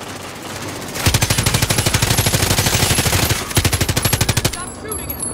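Automatic gunfire in Call of Duty: Modern Warfare comes as two long, loud bursts of rapid, evenly spaced shots with a brief gap between them, set against game ambience.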